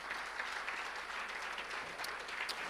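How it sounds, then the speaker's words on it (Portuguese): A congregation at a Portuguese-language church service breaks into steady, sustained applause, a dense wash of clapping from many hands with no pauses. "Dê um aplauso bem forte ao Senhor"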